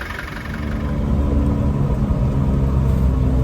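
A 1993 Land Rover Defender 110 with a 200Tdi diesel engine idling smoothly, a loud steady low rumble with a slight rise in level early on, close by and running alone without voices.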